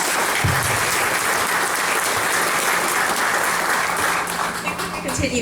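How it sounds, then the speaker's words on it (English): Loud, dense round of applause from a gathered audience at a pilot reunion in Minnesota, many hands clapping continuously and close, tapering slightly near the end with crowd chatter underneath. "please give Mr. Tommy a round of applause"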